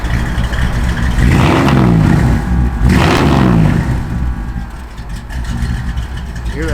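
A 1963 Chevrolet Impala's engine runs with a lopey cam, rumbling and swelling in a couple of revs before settling, close by with someone talking over it.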